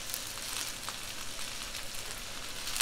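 Spice paste of fresh chili, lemongrass, galangal, shallot, ginger, garlic and curry spices frying in oil, a steady soft broadband sizzle with faint crackles throughout, close and even, no talking.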